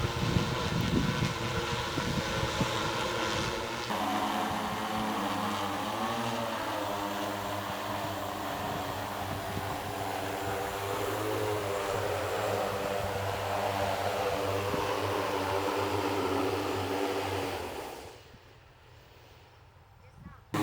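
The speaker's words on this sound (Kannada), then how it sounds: "ಡ್ರೋನ್ 30 kg ವೇಟ್ ಇದೆ." A 30 kg agricultural spraying drone hovers over areca and coconut trees, its propellers giving a loud, steady droning whir with rotor wash that fades out near the end, while people talk underneath.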